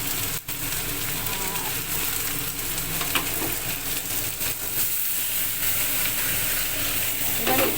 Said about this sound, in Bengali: তারপরে ডাঁটা দিয়ে সব লাল লাল করে ভেজে নিয়েছি নিয়ে তারপরে মশলাগুলো দিয়ে